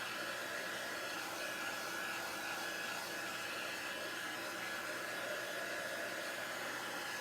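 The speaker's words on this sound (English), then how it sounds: "let's dry that up real quick with my heat tool" A heat tool runs steadily for the whole stretch, drying paint on a craft project with a constant loud blowing whir and a fixed high whine, alone with no talking.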